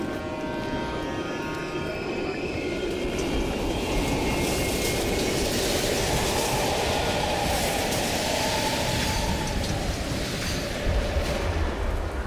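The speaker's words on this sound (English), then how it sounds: "We can use a train to slip past." A train rumbles steadily past in an abandoned station in the Call of Duty Cold War video game, a loud, continuous roll of wheels and carriages filling the whole stretch.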